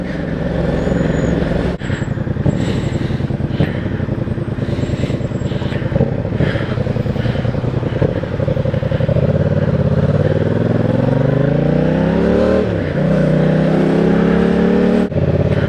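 Busy road traffic heard from a motorcycle stuck in heavy congestion, with a steady loud engine drone and passing vehicles throughout, and a rising engine note building toward the end as the bike revs.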